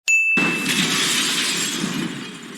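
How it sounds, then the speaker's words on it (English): Glass roof of an arena in Legend of Spyro: A New Beginning bursts with a sudden loud crash, then a long shimmering spray of shards tinkling down and slowly fading. "Cinder leaves the arena by shattering the glass roof"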